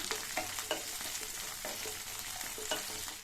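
Loud, continuous sizzling of cauliflower frying in oil, with repeated scraping stirs every half second or so; no voices.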